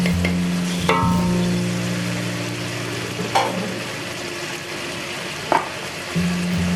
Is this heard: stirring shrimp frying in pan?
yes